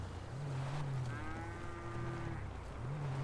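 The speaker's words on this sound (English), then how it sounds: "Oh my god, I'm having cow problems." A cow in a roleplay video game gives a long, clear moo with a wavering pitch, close and loud against a low engine-like hum.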